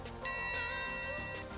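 A single bright metallic ding, like a triangle struck for a right answer on a game show, rings out sharply and then sustains with a slowly fading shimmer, heard alone.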